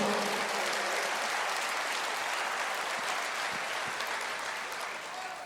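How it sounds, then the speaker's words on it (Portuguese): A church congregation applauds during a sermon, a loud, dense, sustained wash of clapping that fills the space and tapers slightly near the end. "Aplauda ao Senhor."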